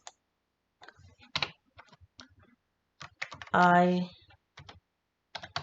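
Computer keyboard typing in short clattering bursts of rapid key clicks, close by, broken up by a man's speech in between.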